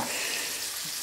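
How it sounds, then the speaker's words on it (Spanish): Chopped onion sizzling steadily in oil in a frying pan, a continuous close hiss with no break across the short stretch. "vamos a sofreír la cebolla"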